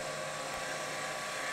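A wood lathe spins a segmented pen blank as a chisel's long point takes a light cut, giving a steady, even high-pitched whir that runs unbroken throughout, close and with no talk.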